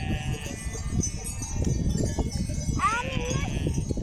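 A sheep bleats once, a wavering cry rising near the end, over a steady low rumble and background noise.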